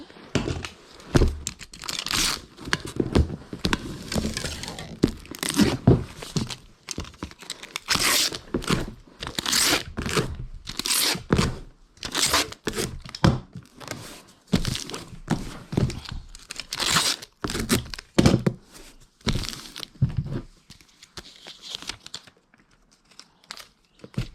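Packing peanuts and fragile stickers being handled while a breakable item is packed into a shipping box: a long run of dry crinkling, rustling and crackling bursts, close and busy, with no talking.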